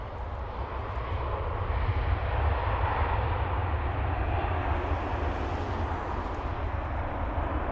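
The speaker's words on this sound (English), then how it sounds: "Nice buttery landing there by the Ryanair." A Ryanair airliner lands at Dublin Airport with a steady, loud jet roar and deep low rumble that holds throughout, broadening slightly midway as the engines spool, no voices present.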